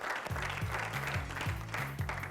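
A TV game show studio audience breaks into dense, steady applause that fills the whole moment, with a low musical tone pulsing beneath it.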